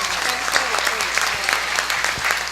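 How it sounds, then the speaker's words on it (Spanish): An audience at a history forum in Tabasco, Mexico claps loudly and continuously for a councillor, a dense, even burst of applause with a few sharper individual claps standing out. "le voy a pedir un fuerte aplauso a la consejera que hizo posible este"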